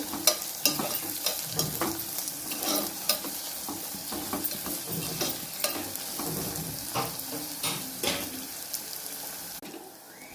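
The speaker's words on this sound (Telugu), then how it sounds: "ఉల్లిపాయలు ఎర్రగా మగ్గాలి" Chopped onions sizzle in oil in a pan, a continuous fry with frequent scraping and tapping of a spoon stirring the pan, close and unaccompanied by voices.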